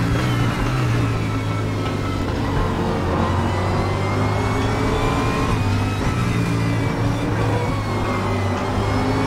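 A race car engine in the RaceRoom racing game runs at full throttle, a loud, sustained droning whine whose pitch bends slightly up and down as the revs shift, heard alone without talk.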